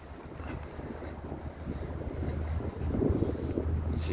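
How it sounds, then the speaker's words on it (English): Gusty wind buffets the microphone at a windy trackside spot near Hastings in Western Australia, a continuous low rumbling roar that swells stronger toward the end, with no voices. "It's always windy here."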